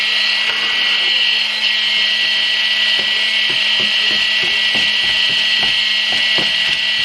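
An electric can opener runs around a can with a loud, steady motor hum and a rhythmic ticking as it grips and turns, alone without talk.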